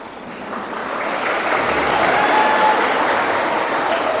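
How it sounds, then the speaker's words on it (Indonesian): At an Islamic religious lecture at a girls' school in Sukabumi, an audience breaks into applause that starts moderate and swells into a full, steady wash of clapping from many hands. "kalau kita dengar itu bunyi tepuk tangan itu"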